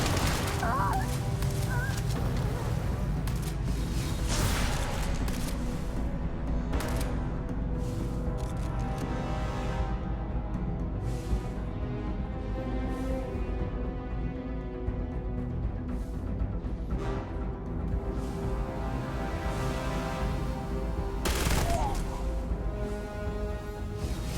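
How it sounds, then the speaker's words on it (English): Sustained gunfire from a firefight in the Starfield video game, with dense bursts and booming impacts running continuously alongside game music and voices. "I'm hit! Really use your help, Rook! Taking fire!"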